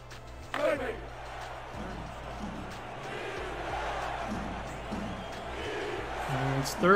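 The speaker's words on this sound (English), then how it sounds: "Crowd on their feet here in Sin City." Football crowd cheering in a Las Vegas stadium during a preseason game, a broad steady roar rising toward the end, with a commentator talking over it.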